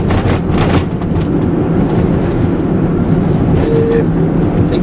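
Cement mixer churning mortar for bricking up a doorway, a steady low rumbling drum noise close by with a gritty rolling texture and occasional scraping clatter, running continuously throughout.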